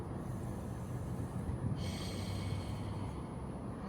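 A slow, deep breath during a yoga stretch, heard as a soft, airy inhale and exhale that is close and quiet with no talking over it.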